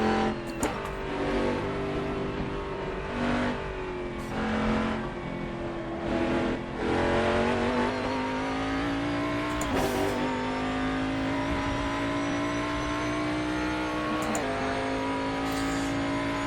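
A V8 Mercedes-Benz CLR race car engine in Assetto Corsa roars and revs continuously, pitch climbing and dropping through gear changes, with occasional tire squeal, loud and close.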